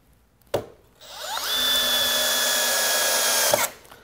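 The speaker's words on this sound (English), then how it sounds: "Let's drive a couple screws. Let's put it in speed 1." A Milwaukee M12 FUEL installation drill/driver set to speed 1 drives a screw. A sharp click comes first, then the motor winds up into a steady, loud whine for about two seconds before stopping with a final click.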